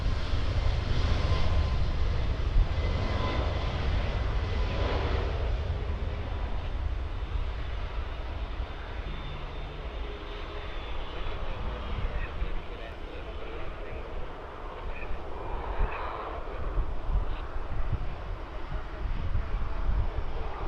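A Boeing 737 MAX jet departs Birmingham Airport, its engines a steady broad roar with heavy low rumble that holds throughout, swelling slightly near the end, with some talk in the background.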